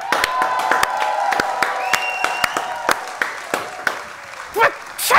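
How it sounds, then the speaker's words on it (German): Small group clapping and cheering for the losing side of a song-guessing game show, with scattered sharp claps, tonal whistles or squeals and excited voices throughout, fading toward the end. "Für die Verlierer einen großen Applaus."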